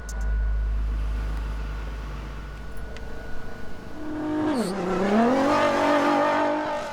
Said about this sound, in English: The big dogs in the cars, ready for one final spin over the sand.